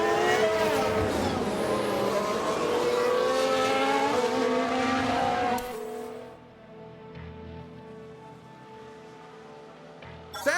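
A Formula One car in F1 Manager 22, 1995 season, roars loudly with rising and falling engine pitch and tire noise as it spins, then drops away to a quieter background.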